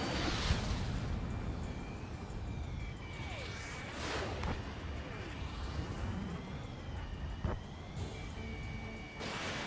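Missile launch and explosion in a video game, heard as a rushing whoosh and deep rumbling booms within a cluttered battle mix. The roaring and sweeping tones swell and fade through the clip.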